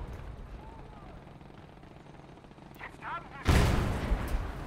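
In the WWII RTS Gates of Hell, American tanks fire at a Panzer 1. Quieter battle ambience and faint whistles give way to one loud, close cannon blast near the end, followed by a rumbling tail.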